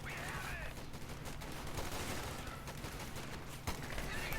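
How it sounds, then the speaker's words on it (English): Rifles and an LMG firing in Company of Heroes 2, a dense, steady rattle of gunfire in a World War II strategy game, moderately loud and continuous throughout. "Rifles begin to move up and engage this LMG Grenadier squad."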